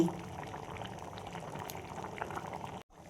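Chana dal cooked with spinach, kasuri methi and ghee bubbles and boils softly in the pot, a low, continuous simmer that cuts out abruptly near the end.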